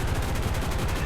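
Rapid continuous aircraft gunfire in the War Thunder flight game, a fast rhythmic burst of cannon and machine-gun shots aimed at an SM-79 bomber, loud and steady throughout.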